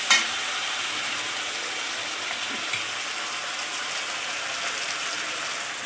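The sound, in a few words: chicken jackfruit curry masala frying in pan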